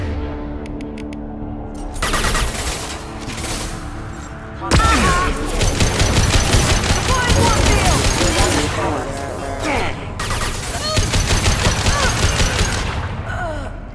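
Firefight gunfire from the video game Mass Effect 2, with loud sustained bursts of rapid automatic fire and crashing impacts, pausing briefly between volleys against game music and effects.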